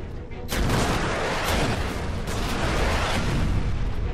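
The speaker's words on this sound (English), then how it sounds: "Oh, he just ate that rocket to the face." A rocket explodes on an enemy in Warhammer 40K Space Marine, a loud, near blast that starts abruptly and rumbles on amid continuing battle booms and gunfire.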